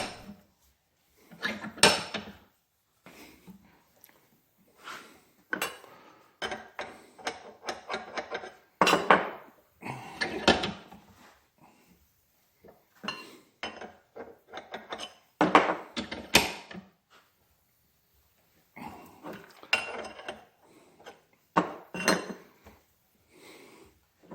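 A thick metal mast bracket clamped in a vise being worked by hand, irregular bursts of knocking, scraping and clanking separated by short quiet gaps, fairly faint, with no talk.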